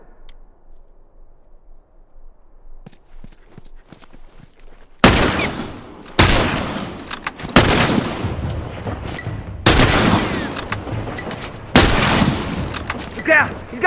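Rifle gunfire in a headshots-only one-on-one video game match: after about five seconds of near silence with faint ticks, a run of loud, close, sharp shots cracks out every one to two seconds, each trailing into a dense echoing tail.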